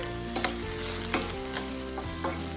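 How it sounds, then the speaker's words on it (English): Garlic and ginger frying in avocado oil in a fry pan, a close soft sizzle with a few stirring scrapes, while quiet music plays underneath. "In the fry pan, I have avocado oil. You can use any oil you like. And I'm going to put garlic."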